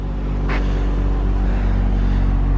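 Loud, deep engine of a 1991 Toyota Supra MK3 with a twin-turbo 1JZ rumbling at close range, holding a steady low idle-like drone with a brief rise to about 3,500 RPM early on.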